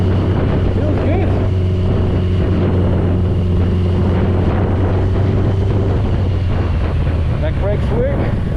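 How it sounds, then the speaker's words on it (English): A loud BMW K100 café racer motorcycle engine hums and drones continuously while riding, with heavy wind buffeting the microphone throughout. "I can't believe I'm riding my first bike."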